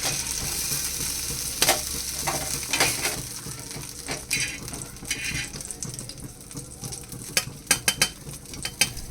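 Surmai fish frying in a pan: a dense ongoing sizzle with repeated sharp clicks and scraping knocks from a utensil against the pan, close and loud, without speech.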